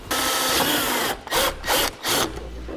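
A power drill drives a self-tapping screw to mount a base plate bracket on a 2017 Ford F-150, giving a loud grinding whir that stops, then three short bursts as the screw is snugged down.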